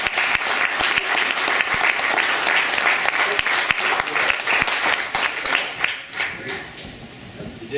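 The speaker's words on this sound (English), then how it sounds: "A round of applause." Sustained audience applause fills a room at an awards dinner, many hands clapping densely and steadily before tapering slightly near the end.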